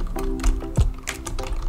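Typing on a computer keyboard at a desk, a quick run of close, crisp key taps over a faint electronic hum.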